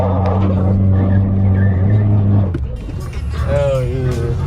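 A 7th-generation Honda Accord with a fully custom exhaust from the header back revs loudly and close, holding a steady drone before the pitch climbs and wavers in a second rev.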